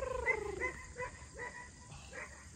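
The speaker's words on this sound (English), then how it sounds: "Those dogs barking" Dogs bark and yip in a quick series of sharp, moderately distant calls over faint background noise, the first few barks louder and higher than the later ones.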